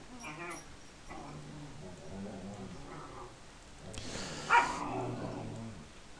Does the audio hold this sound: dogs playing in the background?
yes